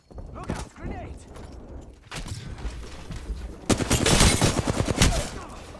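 Rapid bursts of gunfire in the video game Apex Legends, heard through Moondrop Aria and Sennheiser IE 300 in-ear monitors, intensifying into dense loud volleys toward the end, with voices speaking intermittently.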